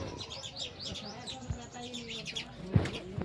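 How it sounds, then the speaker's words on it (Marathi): Sparrows chirp in quick, high, repeated bursts from village trees near mango and lemon plants, moderately close and steady throughout, with faint voices and low rumble beneath. "ते चिमण्या बशा पहा किती मस्त आवाज आला चिवचिव असा लगे."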